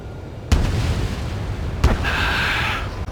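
Ace Combat 7 missile launches in a video game: two sharp booming thumps over a steady roaring jet drone, followed by a brief high whine, loud and close with no talk.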